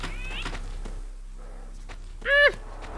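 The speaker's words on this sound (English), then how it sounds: "I heard a cat." Cat meowing in the horror video game Sophie's Curse, a single short, clear meow near the end over a quiet low hum with faint earlier game noises.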